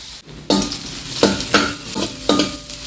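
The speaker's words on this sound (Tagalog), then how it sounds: "Painitin lang yung kawali, mantika, luya, sibuyas, bawang." Ginger, onion and garlic sizzle in hot oil in a pan while being stirred, giving a steady close frying hiss with several scraping stir strokes at regular intervals.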